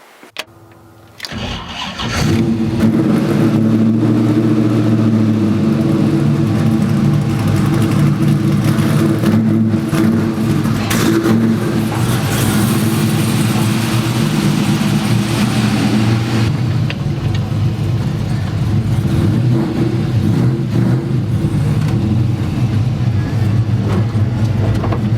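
A dual-purpose street and track race truck with a manual transmission cranks and fires up, then its engine runs loud and steady with a deep, continuous rumble close by.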